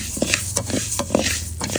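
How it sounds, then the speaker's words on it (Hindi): Whole black urad dal (maash) scrapes and rustles in a pan as it is stirred and dry-roasted for panjiri, giving short, close, repeated stirring strokes with a faint background hiss. "इसे भी हमने थोड़ा थोड़ा भून लेना है।"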